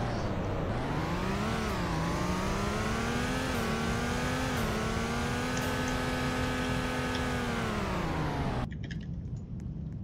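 A car in the Roblox Greenville game accelerates with a loud, continuous engine note that climbs and wavers in pitch for about nine seconds, then cuts off abruptly.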